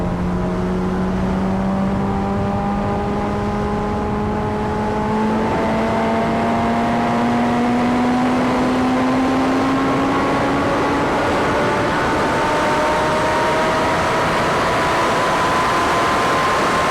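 A vehicle engine pulls slowly and steadily in third gear, its tone climbing gradually and evenly across the whole stretch, loud and close with constant road and wind roar beneath.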